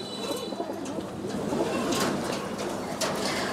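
Young Giribaz pigeons coo in a loft, repeated soft throaty rolling calls overlapping close by, with a faint voice in the background.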